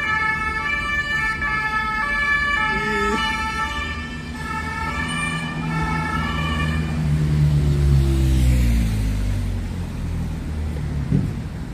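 A wailing emergency siren sounds close by over steady traffic rumble in Paris, its rising and falling tones shifting as the vehicle moves, with a low engine drone underneath.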